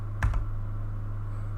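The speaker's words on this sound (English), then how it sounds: "this typing is fine" A brief burst of two or three computer keyboard keystrokes, close and fairly crisp, over a steady low electrical hum.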